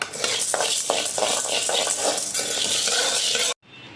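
Chana dal dry-roasting in a pan for curry leaf podi rattles and scrapes under rhythmic stirring strokes about twice a second, a dry granular shuffle close by that cuts off abruptly near the end.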